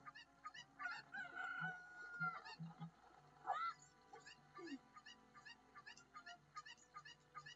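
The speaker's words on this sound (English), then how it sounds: "Get up there, you stupid chicken." Cucco chickens cluck and squawk in the Ocarina of Time video game, short repeated clucks and a rising squawk over game music, fairly quiet throughout.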